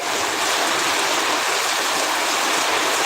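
Heavy rain pours down in a continuous, loud, dense hiss that stays unbroken and close throughout.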